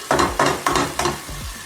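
Rhythmic scraping and stirring bursts over a steady sizzle as eggs fry in a pan for Turkish menemen, close and loud with no talking.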